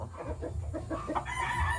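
Fighting roosters and chickens crow and cluck at a Philippine game-fowl farm in Concepcion, Tarlac, close and continuous over low rumbling background noise for a brief stretch.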